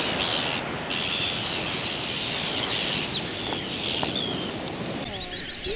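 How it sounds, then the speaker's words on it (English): Terns, seabirds dive-bombing on the sailing route from Orkney to Shetland, give repeated sharp calls over steady wind and background noise, with a few brief higher cries near the end. "you might as well be dive bombed by some of the prettiest and best flyers of the seabirds, the terns"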